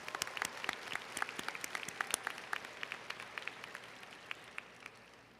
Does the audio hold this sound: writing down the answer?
no